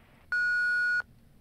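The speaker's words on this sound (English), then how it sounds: "Please leave your drink after the beep." An answering machine in the video game Thimbleweed Park gives a single steady electronic beep of about three-quarters of a second over a faint background hum.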